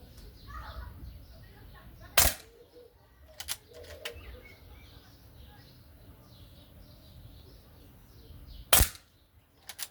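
Two sharp, loud pistol shots at a 12-metre standing target practice with open sights, spaced several seconds apart, with a few fainter clicks and handling knocks between them over quiet room noise.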